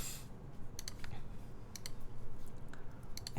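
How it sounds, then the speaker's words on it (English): Keystrokes on a custom O-ring mounted TGR Jane v2 CE mechanical keyboard with lubed MX Black switches and GMK keycaps, a quiet scatter of sharp clicks in small irregular bursts over a steady low background hum. "It sounds like an O-ring mounted Jane with lubed MX Blacks and GMK keycaps."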